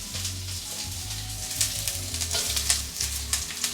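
Garlic, onion and spring onion stems sizzle steadily in a wok over medium-high heat, a continuous close fry with crackles and a low pulsing hum underneath, no voices.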